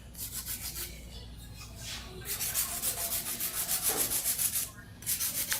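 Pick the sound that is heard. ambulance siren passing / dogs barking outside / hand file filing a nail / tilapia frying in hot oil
hand file filing a nail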